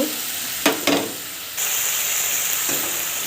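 Ground spice paste hitting hot oil in a pan for soybean curry, with a couple of sharp splattering bursts and then a strong, continuous frying hiss up close.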